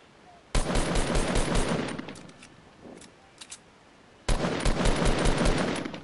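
Fortnite gunfire in a player-versus-player fight: a loud sustained burst of rapid shots, a pause with a few faint clicks and pops, then another loud automatic burst.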